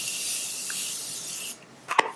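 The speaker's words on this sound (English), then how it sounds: "I'm using the Morphe Continuous Setting Mist as like a finishing spray to melt all of my powders together." Morphe Continuous Setting Mist sprays onto a face as a finishing layer, a soft airy hiss that cuts off midway, followed by a short sharp spritz burst near the end.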